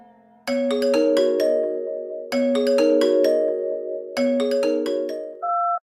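A melodic phone ringtone plays a repeating chime pattern three times, loud and close, ending with a short two-note tone; no voices.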